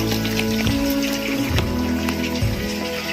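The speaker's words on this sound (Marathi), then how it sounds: "पाऊस जोरात आहे" Heavy rain pattering steadily around a rocky hillside fort, with a dense wash of drops and occasional sharper splashes nearby, close and fairly loud, no talking.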